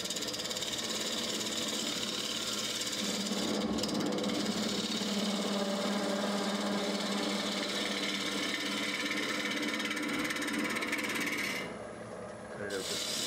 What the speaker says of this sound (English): So what I like to do to take the centers out is turn my chisel the other direction.